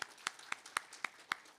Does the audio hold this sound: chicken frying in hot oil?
no